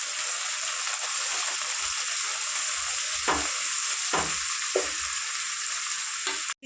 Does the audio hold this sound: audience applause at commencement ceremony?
no